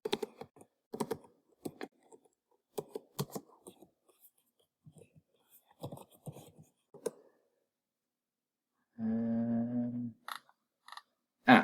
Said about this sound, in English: let's type in the word cardboard in and see if that brings it in